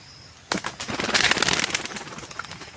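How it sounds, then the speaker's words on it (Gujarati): Pigeons sitting huddled together on a rainy day, with a sudden burst of fluttering and cooing that starts after a quiet half second and carries on as a close, busy rustle. "એટલે આપણે બધા કબૂતરા બેઠા છે."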